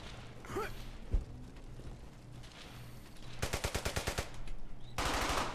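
MG-42 machine gun fire in the World War II shooter Brothers in Arms: Hell's Highway, with a rapid burst of evenly spaced shots and a second dense burst amid battlefield noise, preceded by a few thuds and scattered background chatter.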